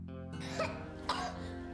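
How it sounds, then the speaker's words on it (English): Two sharp coughs from a child, spaced about half a second apart, close by, with a steady background hum and faint music underneath. "There's the kid cough."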